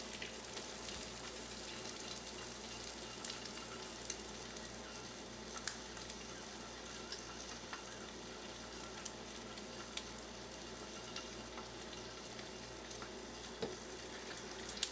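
An egg fries in a stainless steel pan that it is sticking to, giving a faint, even sizzle and crackle that runs continuously with a few small clicks and no talking.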